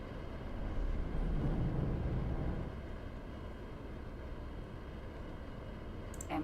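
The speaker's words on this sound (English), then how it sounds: "Definitely sounds like a jet aircraft." Jet-like spacecraft engine roar in the X4 Foundations space game, a steady broadband drone that swells louder for the first few seconds, then settles to a lower, even hum with no talking.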